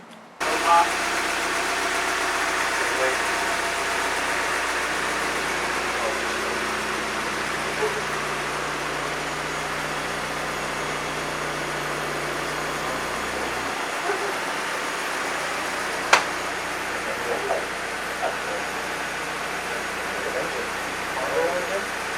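An NB2 Mazda MX-5 Miata engine idles steadily after a fuel pump and fuel sender replacement, a low continuous hum with faint mechanical vibration and a brief click partway through.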